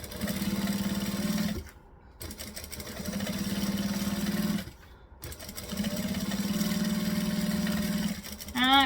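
A sewing machine stitches fabric for a bucket bag in three loud, close, steady runs, each broken by a short pause.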